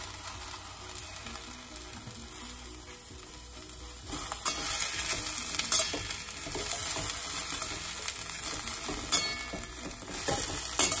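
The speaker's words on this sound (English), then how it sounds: "I'm going to take 2 teaspoons of ghee in this heated pan and add some broccoli florets." Broccoli florets frying in ghee in a heated pan, a steady, dense sizzle that grows slightly louder partway through, with soft scraping and clinking from stirring throughout.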